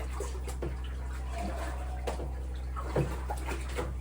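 Water runs steadily into a bucket for mixing aquarium saltwater, a soft continuous splashing over a low constant hum with a few faint knocks.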